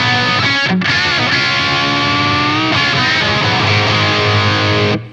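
An electric guitar with heavy distortion plays through two blended Ownhammer Marshall cabinet impulse responses, a dense, loud stream of chugging notes and sustained chords with a brief break near the start.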